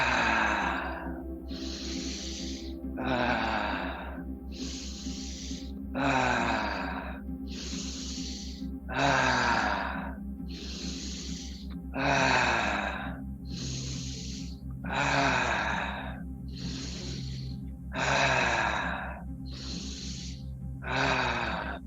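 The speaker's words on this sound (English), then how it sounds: "Inhaling all the way up into the top of the chest. And releasing out the mouth." Slow pranayama breathwork, with about a dozen deep breaths in through the nose and chest and out through the mouth, close and steady in a long even rhythm over a low hum, with no talking.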